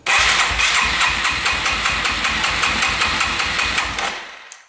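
Street-legal dirt bike engine cranking over repeatedly with the throttle held open during a compression test, a loud, steady rhythmic chugging close by for several seconds before winding down, with no talking.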